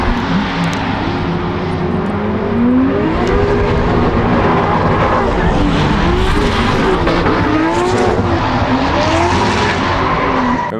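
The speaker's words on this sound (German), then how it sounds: "Einfach so ein Turbomotor, der richtig im Futter steht, klingt einfach immer geil." A turbocharged DTM race car engine runs at full throttle, a loud, sustained roar with rising and falling pitch sweeps as it works hard, dense and continuous with no talk.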